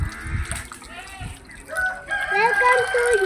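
Hens and a rooster on a village farm, with clucking and a crow rising clearly in the second half of the clip, fairly close and loud.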